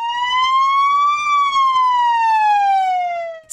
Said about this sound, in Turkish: Sirenler depremin yıl dönümünde tatbikat sırasında çaldı.